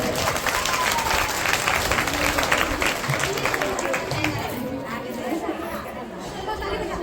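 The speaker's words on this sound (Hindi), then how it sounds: "आज हम लोग अपने लिए जोरदार ताली बजाए।" A women's day audience in India applauds loudly, dense sustained clapping mixed with crowd chatter and cheering, fading slightly toward the end.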